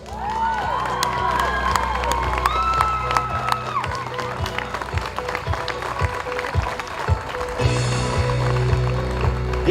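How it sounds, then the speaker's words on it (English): Outdoors at a county fair, a crowd claps and cheers for a contest winner while children shout and announcer-like voices and other fairground noises mix in nearby. "Give Megan a big round of applause."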